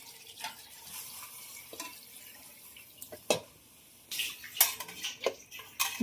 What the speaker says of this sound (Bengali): এবার জল দিয়ে দেবো, কড়াই ধোয়া জল দিয়ে দেবো।